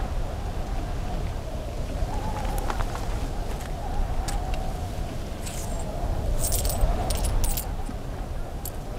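Several coins, eighteen dirhams, jingle metallically as they are handed over to a slave trader, with a few bright clinks near the end over a steady rain-like hiss and low rumble.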